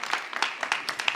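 A small audience claps for performers, a light scattered patter of individual hand claps with uneven rhythm, fairly close and modest in volume.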